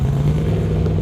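A drag racing motorcycle engine at a dragstrip, running steady and loud with a deep, constant drone and rough mechanical clatter throughout the short stretch.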